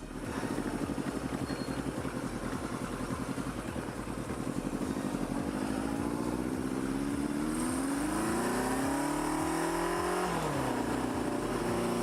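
Kawasaki KZ650 motorcycle riding past at close range, its steady engine drone rising in pitch as it accelerates through the gears, loud and continuous with no talking.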